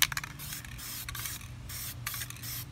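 A spray paint can hisses in short repeated bursts, close and crisp, with brief pauses between taps.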